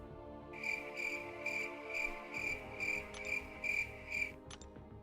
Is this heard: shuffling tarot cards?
no